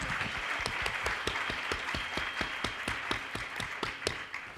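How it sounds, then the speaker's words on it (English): An audience at a women's health panel discussion applauding the speakers, sustained dense clapping from many hands at a steady level, filling the room throughout. "Let's give them a round of applause now"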